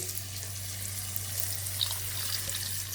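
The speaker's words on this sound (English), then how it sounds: "And now add hot water into your curry." Hot water poured into a simmering Kerala fish curry in a pan, a steady close splashing and hiss with a low sizzle underneath, continuous throughout with no voices.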